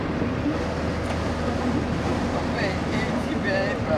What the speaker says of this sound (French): il y a un grand vent, fort vent à Strasbourg